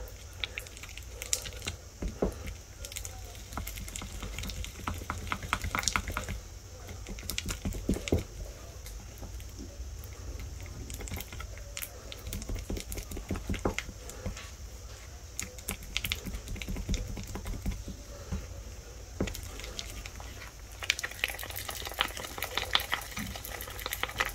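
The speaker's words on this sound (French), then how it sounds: "Il faut bien racler tous les coins. Voilà, comme ça tout se mélange" A spoon mixes and scrapes DIY scrapbooking modeling paste in a bowl, giving rapid, irregular clicking and tapping scrapes that continue closely for a long stretch.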